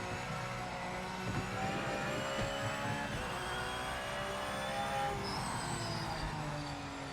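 Race car engine droning steadily in the Project Motor Racing sim, a continuous buzzing rev with shifting harmonic pitch sweeps, loud and sustained with no talk over it.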